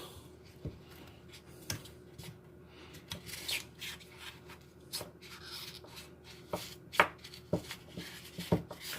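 Flimsy scissors cut through a homemade wax fire starter, giving a series of sharp, close crunching snips at an irregular pace over a low background hum.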